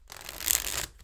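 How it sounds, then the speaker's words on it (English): A tarot card deck being shuffled, a brief papery riffle of cards lasting about a second, close and fairly quiet with no talking. "So I'm gonna give each of these decks here a quick shuffle."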